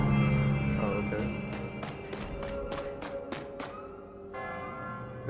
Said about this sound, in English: They're carrying a bell.